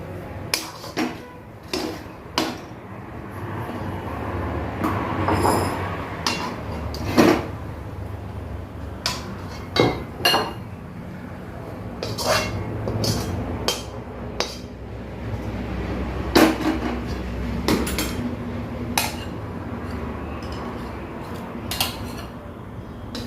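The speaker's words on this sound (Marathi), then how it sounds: "आता हे आपण एका भांड्यात काढून झाकून ठेवू" Semolina batter being scooped from a mixing bowl into a pot and covered with a lid, heard as a string of close metallic clinks, scrapes and lid knocks from utensils and pans over a quiet kitchen background.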